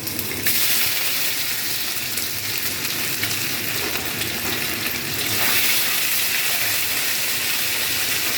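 Ginger paste sautéing in hot oil with whole garam masala for shahi paneer, a steady, loud, close sizzle that holds for the whole stretch, with a brief rise partway through.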